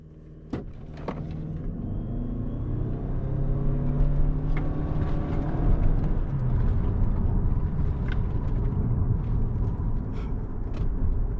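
Inside a 2025 Toyota Camry SE driving in sport mode, a steady engine and road drone swells and holds, with a faint click near the start and no talk.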